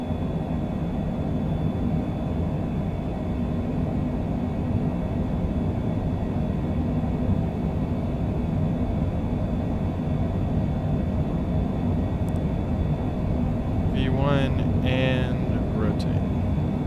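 Jet engines of a Longitude business jet at takeoff power in a flight simulator, a steady loud broadband roar with a deep rumble that holds constant throughout, with a short burst of talk near the end.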